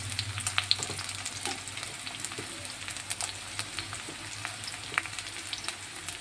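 Chopped onion, ginger and garlic frying in hot oil for cabbage manchurian, giving a steady close sizzle with scattered pops and crackles throughout and no talk.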